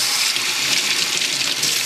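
Steady running water from a tap while the water is changed in a Cabela's Thumler vibratory coin tumbler, a continuous close hiss and splash with no speech.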